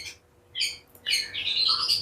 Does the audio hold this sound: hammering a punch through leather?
no